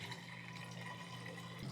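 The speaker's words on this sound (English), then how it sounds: "And so I'll go ahead and pour it in my jar." Raw milk pouring steadily into a glass jar, a continuous close liquid trickle with a faint low hum beneath, no talking.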